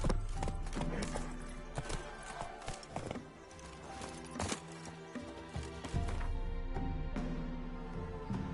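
Roach, the horse in the video game The Witcher, gallops with busy hoof clip-clops layered over music and game effects, the rhythm steady and fairly loud throughout.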